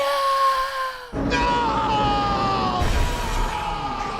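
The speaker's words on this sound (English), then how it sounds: "then you hear the sound of Luke screaming" A drawn-out, anguished scream with a tonal, echoing quality, shifting in pitch over a few seconds against a dense, rumbling background.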